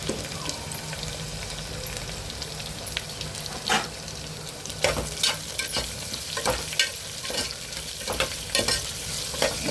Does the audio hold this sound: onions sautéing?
yes